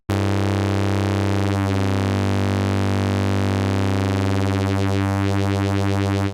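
A steady synthesizer drone whose upper harmonics warble and sweep as an audible oscillation sets in, buzzy and continuous for several seconds.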